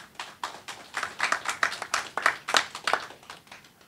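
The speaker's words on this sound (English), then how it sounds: "Give him a round of applause, please." Sparse applause at a regional security project media launch, quiet and nearby: a small group claps in distinct, uneven bursts that swell briefly and then fade.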